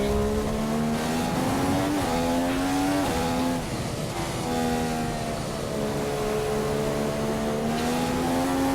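An F1 race car engine in the F1 2015 video game screams at high revs through a qualifying lap, the pitch dropping with each gear shift and rising again, loud and continuous with no talking.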